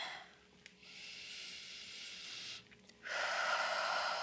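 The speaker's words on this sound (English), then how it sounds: "long exhales through the mouth" Slow, steady exhales of breath through the mouth during a hamstring release stretching session, a soft airy hiss that swells and fades across several seconds, close to the microphone with no talking.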